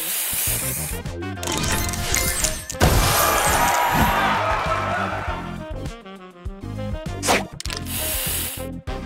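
Spray booster effect in the Match Masters mobile game: a dense, hissing spray burst mixed with crashing, shattering tile-clearing sounds and quick clicks over several seconds, amid busy game effects.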